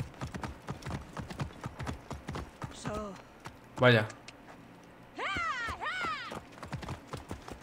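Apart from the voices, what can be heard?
horse hooves galloping in Assassin's Creed Origins video game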